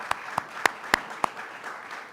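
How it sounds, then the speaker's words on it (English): A handful of separate, sharp claps ring out at an official state gathering honoring assemblymembers, spaced irregularly over a low murmur of room noise, sounding sparse and close rather than like a full crowd. "Why don't you stand and let's give them a round of applause"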